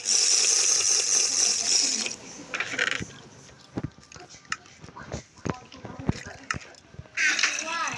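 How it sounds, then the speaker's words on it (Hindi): Drinking a water bottle in the Minecraft video game: gulping, sloshing water sounds fill the opening two seconds and return near the end, with quieter clicks and game noise in between. "पानी की बोतल चलो भाई पानी पी लें"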